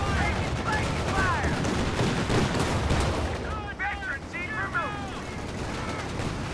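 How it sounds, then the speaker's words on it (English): A half-track's autocannon firing in Company of Heroes 2, a rapid burst of repeated gunshots over battle noise, with whistling shell sounds and distant explosions, moderately loud and mixed with other game effects. "Kind of goes through a big burst on the autocannon"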